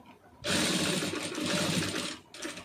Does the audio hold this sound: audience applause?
no